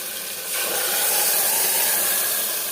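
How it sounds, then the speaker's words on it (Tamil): Garlic lemon chutney pours into a hot pan and sizzles, rising into a loud, steady, bright frying hiss after about half a second; no speech. "எல்லா சட்னியும் ஊற்றுவோம்."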